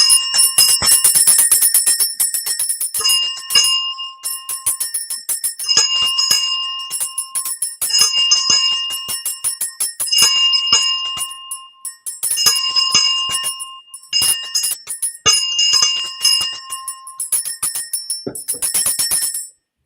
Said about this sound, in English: Doing the bell for the children. So bell for the children.